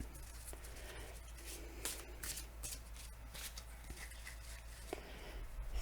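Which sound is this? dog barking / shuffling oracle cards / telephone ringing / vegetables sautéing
shuffling oracle cards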